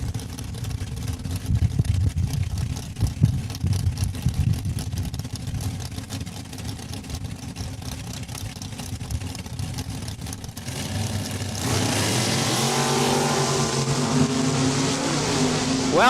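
Drag racing at Saskatchewan International Raceway in Saskatoon, where a 1968 Nova and a 1972 Dart launch down the quarter mile. A loud, sustained engine roar swells and holds steady as the cars run, with no one speaking.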